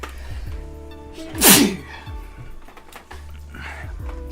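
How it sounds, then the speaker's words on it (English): One sharp, loud sneeze bursts out near the middle, with quiet background sounds and faint murmuring before and after. "I'm also going to sneeze."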